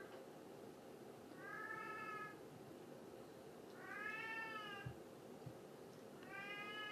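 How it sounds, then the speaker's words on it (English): Cats meow three times, soft drawn-out calls spaced a couple of seconds apart, over a faint background hum with a couple of light knocks. "The cats are curious to see what I'm doing."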